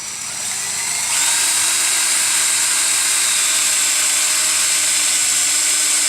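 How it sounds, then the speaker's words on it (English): A power drill bores into wood while a baby gate is built, starting quieter and rising after about a second into a loud, sustained high-pitched whine that holds steady to the end. "I just slide the bit in, kind of get it nice and in there, and then just start off slow."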